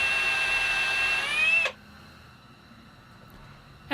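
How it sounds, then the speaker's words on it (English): A hand-held power drill bores holes into the tenon of an acoustic guitar neck, a steady high whine running for about a second and a half before stopping abruptly, leaving near silence. "I'll carefully drill those holes with a hand drill"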